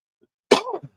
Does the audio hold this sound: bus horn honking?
no